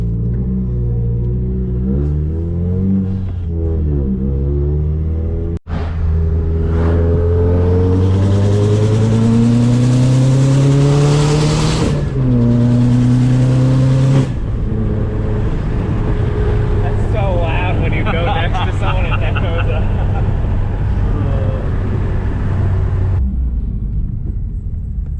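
A Subaru WRX cruises from inside the cabin, its loud engine note rising in pitch through several accelerations with brief drops at gear changes, then settling into a lower, rumbling drone.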